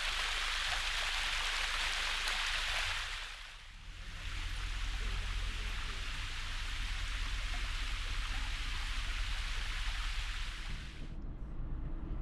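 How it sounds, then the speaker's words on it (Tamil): At Megamalai a roadside waterfall sends a steady, hissing rush of falling water close by. It dips briefly, then pours on evenly for about twelve seconds with no one talking. "நாம் பார்த்துட்டு இருக்கக்கூடிய இந்த அருவியானது சாலை ஓரமாக இருக்குது"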